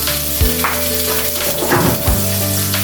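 Sliced onion sizzles in a hot pan with a steady frying hiss, joined by a few scraping stirs and clinks of a utensil against the pan; no one speaks.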